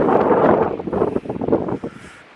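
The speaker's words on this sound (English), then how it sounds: "It's really windy." Strong wind buffets the microphone in loud, rumbling gusts that ease off toward the end, with no voices.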